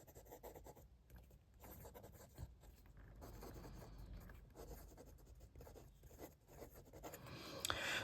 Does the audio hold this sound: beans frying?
no